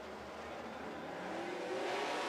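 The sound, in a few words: late model race cars accelerating at green flag start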